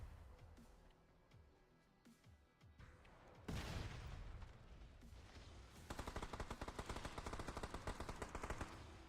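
Video game gunfire erupts in a multiplayer shooter where tanks appear, starting with a loud burst around the midpoint and then becoming sustained, rapid machine-gun fire that dominates the end, with faint voices underneath.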